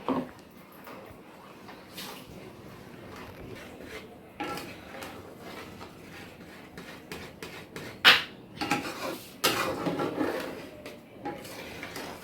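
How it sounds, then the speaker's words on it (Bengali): Rice stirred into hot milk in a pot for phirni, with quiet scraping and occasional clinks of a spoon against the pot, some louder knocks coming in bursts. "এবারে দেব চালটা দেবো আর নাড়বো, না এলে দলা পাকিয়ে যাবে।"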